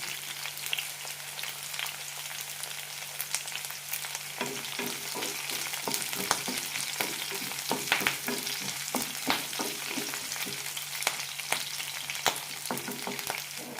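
Shallots, onion and curry leaves frying in a pan, a continuous soft sizzle with intermittent stirring scrapes and clicks, steady and close, with no voices.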